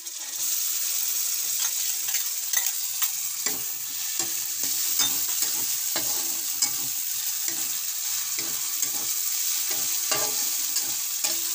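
Spice masala browning in a pan for an aloo paneer matar sabzi, with tomatoes going in: a loud, continuous sizzle with repeated scraping stirs and utensil knocks, close by, no talking.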